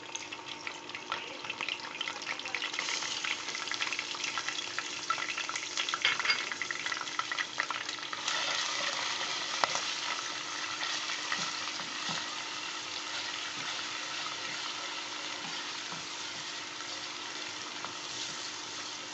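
Continuous sizzle of garlic, ginger and curry leaves frying, with occasional stirring scrapes, steady and close, no voices.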